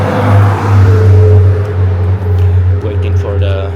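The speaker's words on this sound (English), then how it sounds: "waiting for the loud car to drive by" A loud car drives past on a street in Singapore before dawn, its engine rumbling steadily close by, with a voice talking over it.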